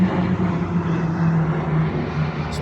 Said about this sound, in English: whoa, what kind of plane is that?